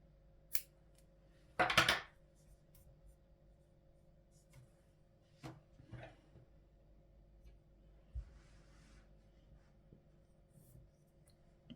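Scissors snip through crochet yarn while a knot bag is fastened off, giving a couple of sharp close cuts near the start, then a few faint clicks and handling noises in a quiet room.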